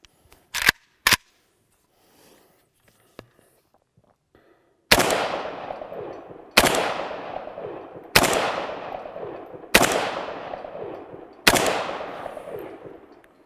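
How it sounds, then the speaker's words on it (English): AK rifle fired with its stock muzzle compensator, five loud sharp shots spaced about 1.6 seconds apart, each with a ringing outdoor decay, preceded by a few brief clicks and handling noises. "let's take a quick shooting impression with the stock muzzle comp"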